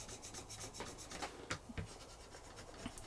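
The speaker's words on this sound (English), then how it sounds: "I'm able just to take a little bit of fine metal off. That's the black ending up on the strop." The blade of a wheelwright's wooden Jarvis plane is rubbed back and forth on a leather strop bent over a hammer shaft, giving faint, soft rhythmic scraping strokes heard close and alone.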